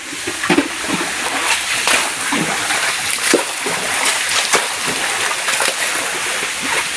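Water flowing strongly out of a long connected pipe, splashing down below in a steady rushing wash with irregular splatters throughout, fairly close and loud.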